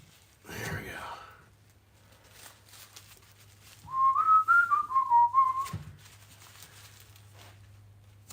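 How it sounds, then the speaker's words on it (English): A person whistles a short wavering tune for about two seconds, close and clear, after a breathy sigh-like sound; low background hum throughout. "I do a lot of whistling."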